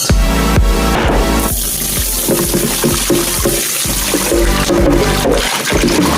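A tap runs loudly and close while rice is rinsed, water drumming and splashing continuously with irregular knocks and clatters mixed in.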